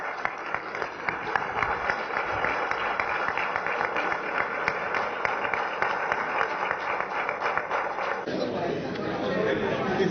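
An audience at a Nigerian House of Representatives event gives sustained applause, dense clapping mixed with crowd chatter for about eight seconds before thinning into murmuring voices.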